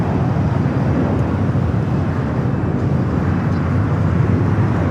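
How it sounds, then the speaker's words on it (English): Continuous loud jet engine roar of an Air China Boeing 777-300ER taking off from Los Angeles International Airport bound for Beijing, dense low rumble filling the scene without pause. "Air China taking off, heading back to Beijing on the 777-300ER."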